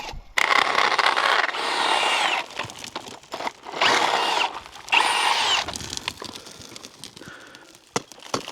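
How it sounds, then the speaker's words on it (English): A handheld power drill grinds into rock in loud bursts, starting and stopping several times with short pauses between, close by and without talk. "I needed a handheld drill"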